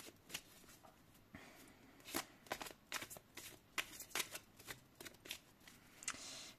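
Oracle card decks shuffled by hand, a run of crisp riffling and flicking bursts in an uneven rhythm, close and alone with no talk.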